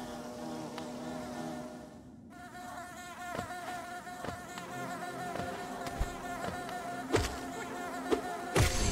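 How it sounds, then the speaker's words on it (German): Bees buzzing around a beehive in Hollow Knight, a continuous droning swarm hum with scattered sharp game clicks and taps throughout, steady and fairly quiet. "da unten ist wirklich ein Bienenstock"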